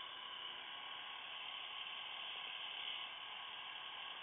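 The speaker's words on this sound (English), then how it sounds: "The new Philips Norelco Power Touch Aquatech Wet Dry Shaver." A Philips Norelco Power Touch Aquatech wet/dry shaver runs continuously with a steady, faint, bright buzzing hum. The sound holds level throughout with no talk.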